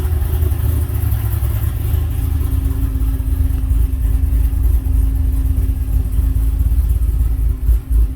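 A 2016 Chevrolet SS V8 with a cam and Kooks exhaust, fueled on E85, idles at its first start with a loud, steady, lumpy rumble throughout, close by, with no talk.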